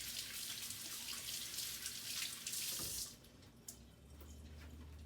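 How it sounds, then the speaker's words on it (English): Hands are rinsed under a running kitchen tap in a steady, fairly soft stream of water that thins and quietens toward the end, with no talking. "I have to rinse my hands."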